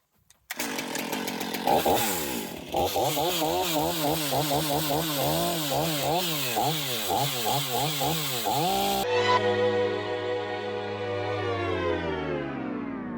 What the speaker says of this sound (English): We're gonna chop this log up using the Stihl 500i, fuel injected 80cc, 14-pound chainsaw